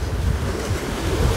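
Waves breaking on a beach of the Sea of Azov after a night storm, with strong gusts of wind buffeting the microphone; a loud, continuous surf roar with low rumbling surges.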